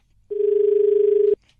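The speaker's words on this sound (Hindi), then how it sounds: "शायद नेटवर्क में कोई प्रॉब्लम आ रहा है ना भाई साहब, फोन कट रहा है" A single steady telephone tone sounds after a call is cut, loud and clean, lasting about one second with a slight pulsing, alone with no talk.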